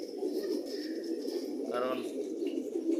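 Pigeons coo indoors in a room where they are kept during winter, a soft, steady low murmur running under a person talking nearby.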